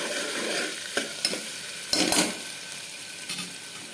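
Ginger garlic paste fries in a pan, jackfruit seed curry in the making. The sizzle is steady and close, broken by a few scrapes and stirs of a spoon, and there is no talk.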